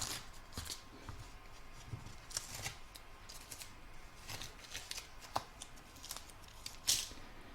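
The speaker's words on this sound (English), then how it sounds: "So I'm going to remove my tape" Tape peeled off an embroidery hoop while making an in-the-hoop floral topper makes quiet, close, irregular crackles and rustles, with a sharper brief rip near the end.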